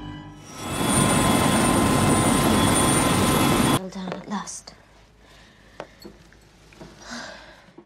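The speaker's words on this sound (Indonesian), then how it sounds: "segera dibawa ke helikopter menuju rumah sakit St. James" A helicopter in a film scene makes a loud, steady rotor and engine roar for about four seconds, then cuts off abruptly to quieter scattered sounds.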